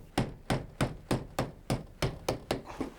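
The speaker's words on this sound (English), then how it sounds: "I'll use a chisel to remove material up to the cut line" A chisel is struck in nine regular, sharp blows, each a crisp knock with a short decay, as rotted wood is cut away from window sill trim, close and fairly loud with no voices.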